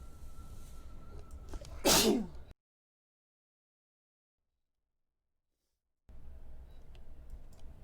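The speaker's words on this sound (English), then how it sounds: "I'm gonna sneeze." A single sharp human sneeze bursts out close to the microphone during a quiet gaming session, followed by a stretch of dead silence and faint background noise.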